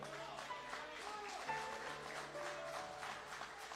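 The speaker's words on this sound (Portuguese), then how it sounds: "vamos aplaudir Jesus com alegria." A church congregation at a live worship service applauds together, a fairly faint, sustained patter of clapping with a steady hum and some tonal sounds underneath.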